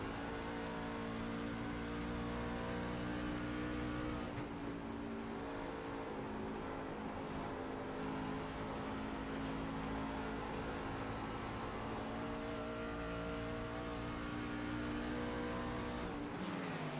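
Onboard engine note of a race car in a sim racing game at Dover, a loud steady drone held at high revs throughout, with brief dips around shifts.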